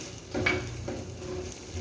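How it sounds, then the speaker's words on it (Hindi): Tomato paste being stirred into cooked chicken in a pan, a soft scraping stir with a light sizzle beneath, two brief louder strokes near the start, close and steady with no talking. "अब इसके अंदर मैं टमाटो पेस्ट ऐड करूंगी और इसको मिक्स करेंगे अच्छी तरह"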